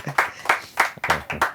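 Scattered audience clapping at a Gujarati film talk event, a few distinct claps in a steady rhythm, fairly close and not dense.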